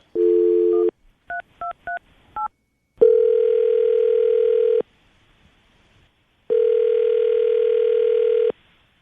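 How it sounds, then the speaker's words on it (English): Phone line being dialed on a radio morning show: a short dial tone, a quick run of touch-tone beeps, then two long ringback tones separated by silence, clean and close. "we're going to call her right now, see if we can get her on the phone"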